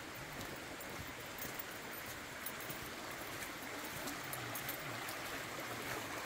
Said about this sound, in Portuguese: O córregozinho passa aqui,